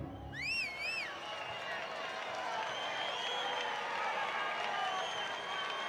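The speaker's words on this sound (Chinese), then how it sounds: "让我们用更热烈的欢呼声有请" Studio audience cheering and clapping as a contestant is welcomed at a detective-themed competition show, a steady, loud crowd roar with scattered whoops, after a brief whistle-like tone at the start.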